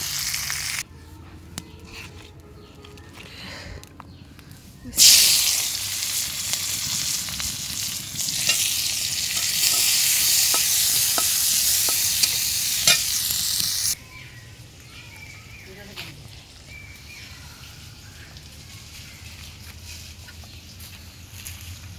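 Fish lightly frying in a pan, a quieter crackle at first that bursts into a loud bright sizzle for several seconds, then drops back to a soft, low frying hiss.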